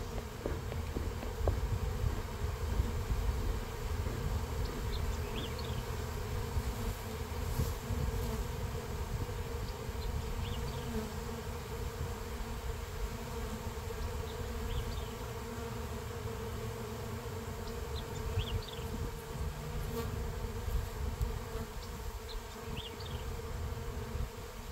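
Bees swarm around an open hive as a brood frame is moved from a strong hive to a weak one, a dense continuous buzzing drone, close and steady throughout.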